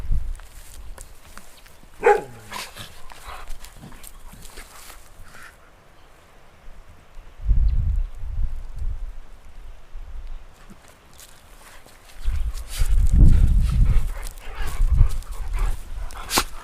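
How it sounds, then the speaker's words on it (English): Two dogs bark and scuffle nearby in loud bursts that come in clusters with quieter gaps between them. A single sharp yelp rings out early, then grows into heavier barking toward the end. "that last part with the two dogs there, that was Coco and Boogie,"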